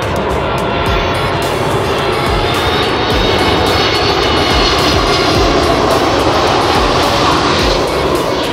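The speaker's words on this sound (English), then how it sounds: "This is such an amazing plane spotting location, and there is a huge variety of planes." An airplane roars past a plane spotting park in Anchorage, Alaska, a loud, steady engine rush that fills the whole stretch without letting up.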